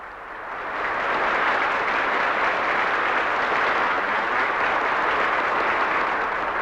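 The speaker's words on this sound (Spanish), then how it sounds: "Es aplaudido ruidosamente, más aún que el propio Stalin." Loud, sustained applause from delegates at the 1934 17th Congress of the Communist Party, swelling within the first second into a thick, even roar of many hands clapping that holds steady to the end.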